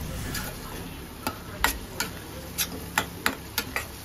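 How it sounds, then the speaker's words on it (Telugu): Masala paste frying in oil in a pan, stirred continuously: a soft bubbling sizzle with a series of sharp spoon taps against the pan, a cluster of clicks in the second half, no voices. "ఈ మసాలా అంతా కూడా బాగా వేగేంత వరకు కూడా ఇలా కంటిన్యూస్గా ఎక్కడ మాడిపోకుండా తిప్పుతూ ఉండాలి"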